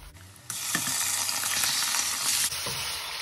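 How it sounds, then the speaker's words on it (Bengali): Meat poured into a pan of half-cooked onions for haleem bursts into a loud, hissing sizzle that holds steady for about two seconds and then drops back abruptly to a quieter background, with no voices. "তারপর এখন আমরা এই মিটগুলো ঢেলে দেব"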